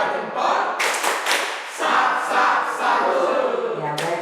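An audience at a teacher training session claps in short bursts and rhythmic patterns, loud and close, with some voices briefly mixed in.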